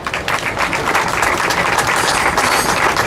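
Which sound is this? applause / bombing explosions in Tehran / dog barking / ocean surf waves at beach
applause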